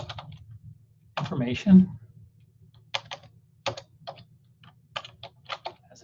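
Sign-in details are typed on a computer keyboard in short bursts of crisp, close key clicks with pauses between them, following a man's brief speech.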